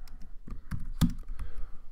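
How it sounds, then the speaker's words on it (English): Fingers type on a computer keyboard in irregular bursts of close, crisp key clicks with one louder keystroke, while working in Python in the Spyder editor. "I'm over here and I'm free to keep typing."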